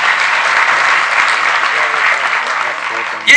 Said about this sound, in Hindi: तालियां बजाइए इनके लिए आप